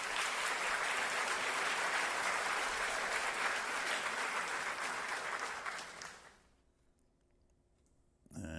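Dense crowd applause, steady and loud for about six seconds, then cutting off abruptly into near silence.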